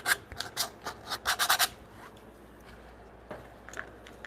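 Sandpaper rubs over the corners of a wooden timber-frame diagonal brace in a cluster of quick, close scratchy strokes, then fainter scattered rubs with no talking.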